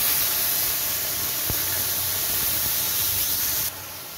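Tomato paste going into hot oil seasoned with green chili and nigella seeds, giving a steady, broad sizzling hiss with a brief knock near the start and a drop in level just before the end, no talk.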